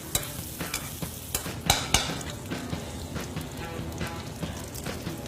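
Salmon frying in foaming butter while being basted, a close steady sizzle with scattered spoon scrapes and clicks against the pan.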